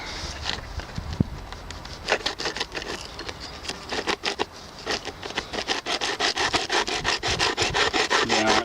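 A tool cuts easily through a soft bolt on a Chinese motorcycle fairing, making a steady, close rasping and grinding noise in rapid repeated strokes that grow denser and louder toward the end, with no talking.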